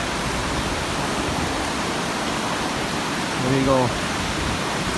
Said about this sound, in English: And they call this a creek, and it's huge.